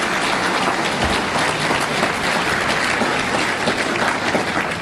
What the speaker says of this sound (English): Big round of applause for Ben Shapiro.